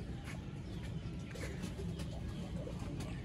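A pair of Chapra pigeons gives soft, low, repeated coos close by, a faint murmuring rhythm over a steady background hiss.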